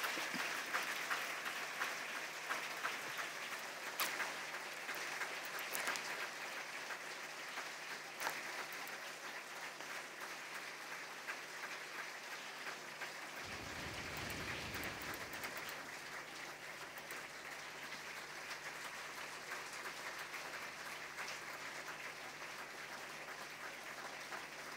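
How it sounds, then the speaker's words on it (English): A symposium audience applauds continuously for about twenty-five seconds, a dense, even clatter of many hands at moderate distance, without talk. "This round of applause will carry him to"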